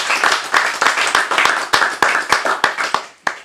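A small group of people claps hands in a steady, fairly even rhythm, each sharp clap close and distinct, until the clapping thins and stops near the end.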